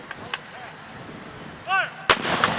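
A memorial cannon at a Confederate Memorial Day ceremony fires a single loud, sharp blast near the end, after a stretch of quiet outdoor ambience with faint distant sounds.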